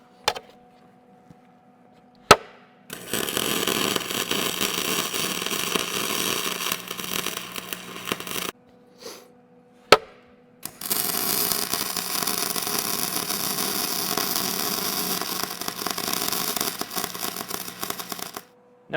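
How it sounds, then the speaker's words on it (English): A welder lays a strip onto a worn plow share, making two long stretches of steady crackling hiss up close, split by a short pause and a few sharp clicks as the arc is struck. "I'm going to start welding on the strip."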